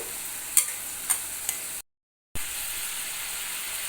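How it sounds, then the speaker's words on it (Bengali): Fried potatoes and spices go into a pan of ridge gourd curry, a steady hiss of sizzling with a few sharp clinks and scrapes, broken by a brief dead-silent gap before the frying resumes. "ভেজে রাখা আলুগুলো এইবার দিয়ে দিতে হবে তারই সঙ্গে দিয়ে দিতে হবে মশলাগুলো"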